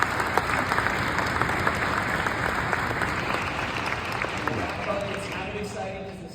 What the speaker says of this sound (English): And I think that does deserve a round of applause.